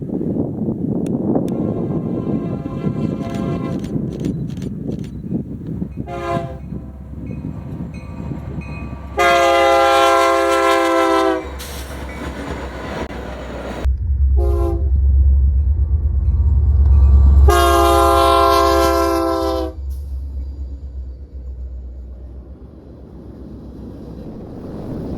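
A Union Pacific-led freight train rushes through on the BNSF Needles subdivision, its horn blasting in several long loud chords over a rising rumble of rolling cars and wind buffeting the microphone.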